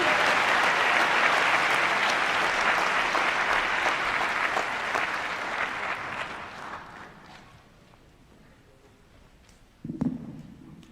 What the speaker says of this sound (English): So why don't we give another round of applause to our graduates.